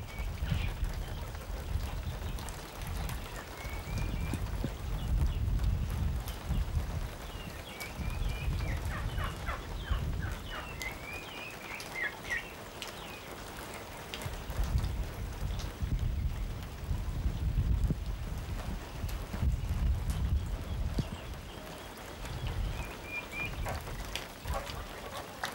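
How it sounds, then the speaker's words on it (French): A thunderstorm downpour on a farm, with a steady hiss of rain and a low rumbling, while geese honk and cackle in bursts, loud at moments and fainter at others. "le beau temps et la sieste des oies soient interrompus brutalement par une averse orageuse"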